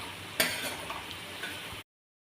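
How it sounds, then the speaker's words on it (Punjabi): Potatoes and onions lightly roasting in a pan for Punjabi kadhi, a soft steady sizzle with a single sharper scrape of a spoon early on, fairly quiet and close, then cutting to silence. "ਆਲੂ ਪਿਆਜ਼ ਆ ਜਿਹੜੇ ਆਪਣੇ ਹਲਕੇ ਭੁੱਜ ਗਏ ਆ"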